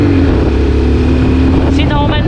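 A Suzuki Gixxer 250 BS6 motorcycle engine drones steadily during a test ride, thick with wind buffeting; a voice briefly speaks over it near the end.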